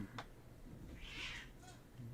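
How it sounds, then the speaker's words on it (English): A cat meowing outdoors, one drawn-out mew in the middle with a brief sharper sound before it, faint and somewhat distant with no talk over it. "What is that cat doing out there?"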